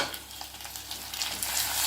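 Curry leaves fry with onion and green chilli in a pan for chicken curry, giving a brief, steady close-up sizzle that grows slightly louder, with no talk.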